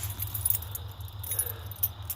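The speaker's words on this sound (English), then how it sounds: "Get my keys out." Keys jangle in a steady, rhythmic metallic rattle as they are pulled out near a John Deere 445 lawn tractor, with a low hum running underneath throughout.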